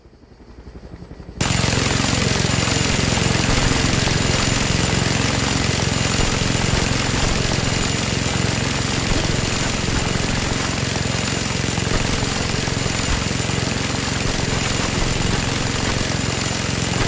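Helicopter in the Just Cause 2 video game, a loud, steady whirring engine and rotor drone that starts abruptly after a brief quiet moment and holds constant throughout.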